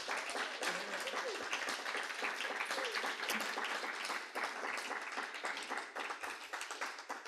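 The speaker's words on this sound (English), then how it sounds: "Can we have another round of applause?" Audience applause at a poetry reading in the San Francisco Public Library, a steady dense patter of many hands clapping for about seven seconds with some faint voices mixed in.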